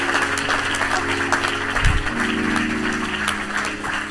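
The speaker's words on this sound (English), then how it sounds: "let's give him a round of applause" An audience claps for a live illustrator at a storytelling event, with dense, steady applause throughout, heard over a loud low hum and a brief thump midway.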